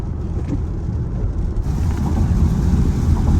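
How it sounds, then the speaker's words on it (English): Rain heard from inside a Tesla Model Y driving over the Tennessee River, a steady broadband wash of drops and road noise that holds loud and constant throughout, with a slight rise partway through. "Of course, it would be raining."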